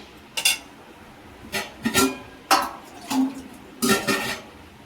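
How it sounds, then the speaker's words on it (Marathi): A spoon scrapes and clinks against a pot as water is stirred into thick cooked mango pulp, with about five separate bursts spaced a second or so apart, close by and moderately loud. "आता ह्याच्यात थोडं पाणी मिक्स करूया"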